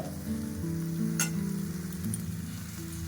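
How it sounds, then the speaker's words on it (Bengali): Cabbage frying in a pan sizzles steadily up close while being stirred, with a sharp metallic scrape or clink of the utensil against the pan midway; no speech. "এভাবে আমি নাড়াচাড়া করে নেবো 2 মিনিটের মতো"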